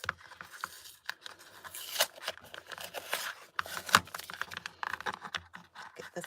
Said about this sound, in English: Get this tape off here.